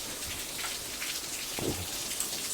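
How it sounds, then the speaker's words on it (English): Steady rain falling outside a car, a soft continuous patter with scattered drop impacts and a low rumble, heard alone without any talking. "You can hear the rain."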